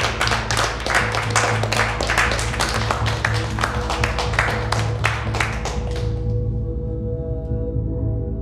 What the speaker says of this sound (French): On applaudit Derek!